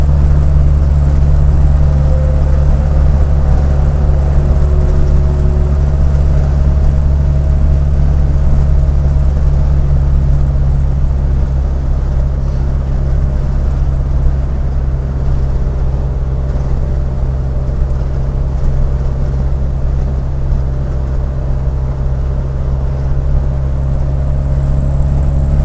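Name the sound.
Norfolk Herald boat engine running at speed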